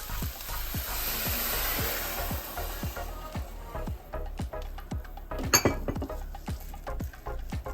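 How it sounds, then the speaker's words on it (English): Coconut milk hits curried chickpeas in a hot pan with a loud, steady sizzle that fades into repeated spoon stirs and clinks against the pan, heard close up. "And now I'm going to add 2 cups of coconut milk."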